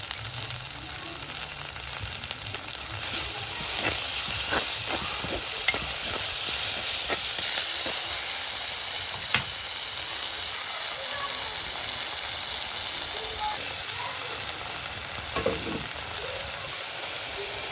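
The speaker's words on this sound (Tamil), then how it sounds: "வெங்காயம் தக்காளி எல்லாம் வதங்கிடுது" Onions and tomatoes sauté in a pan for a Sri Lankan-style fish curry, giving a steady close sizzle with scattered stirring scrapes and clicks throughout, no talking.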